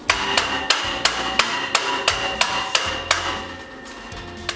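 Steady, rhythmic steel hammer blows ring out on metal fender work, a dozen sharp clanks roughly every third of a second over a low background rumble.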